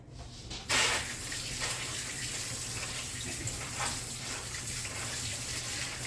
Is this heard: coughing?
no